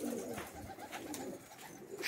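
Pigeons coo softly in a loft setting with a wire-mesh enclosure, low steady murmuring calls running continuously across a couple of seconds at moderate distance, alone without speech.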